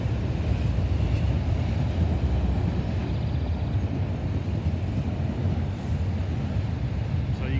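A fast, heavily loaded freight train with intermodal container cars rumbles steadily past in northern Ohio near Oak Harbor, a loud, continuous low roar and rattle that holds through the whole stretch.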